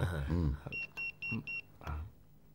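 Four short, bright electronic beeps of a phone message notification ring out in quick succession from a Hindi-dubbed Hollywood action film, with voices talking briefly before and after.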